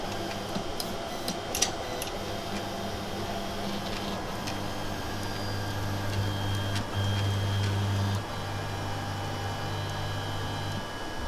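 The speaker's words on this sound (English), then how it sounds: "I'm actually going to show you this printer homing" A 3D printer's stepper motors hum and whine in shifting tones, with faint ticks and clicks as the axes move, fairly quiet throughout.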